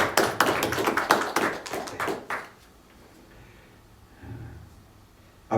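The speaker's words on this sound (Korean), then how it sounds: "박수로 환영하겠습니다" A church congregation claps together to welcome new members, a dense burst of many hands for about two and a half seconds before it stops and a quiet room remains.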